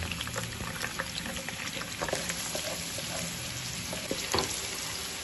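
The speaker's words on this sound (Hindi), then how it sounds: "साइज का प्याज जो मैंने बारीक चॉप किया हुआ था ये डाल देते हैं। इसको सौते कर लेते हैं इसी तरह।" Steady crackling sizzle of finely chopped onions sautéing in a pan for keema fry, with occasional scrapes and clinks of stirring, close and continuous with no talking.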